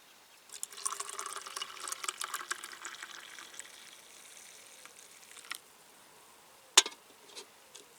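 Water runs into an old kettle at a lakeside fishing syndicate, a steady faint filling splash that fades out, followed by a sharp clink and a few small knocks.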